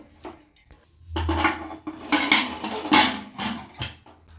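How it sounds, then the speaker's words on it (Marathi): Beetroot, whole green gram, salt, water and fresh coconut being stirred together in a metal pot, a series of close clanking and scraping knocks of a spoon against the vessel, irregular and moderately loud, with no voices. "सर्व साहित्य मिक्स करून घ्यायचं।"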